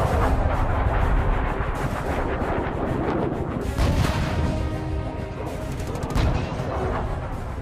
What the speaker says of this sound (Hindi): जोरदार धमाका और फिर आसमान में उठती आग की लपटें